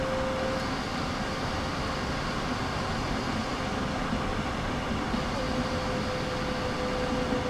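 Steady rumbling rail noise with a constant tonal whine, a train running along the track with no clear pass-by peak, loud and continuous.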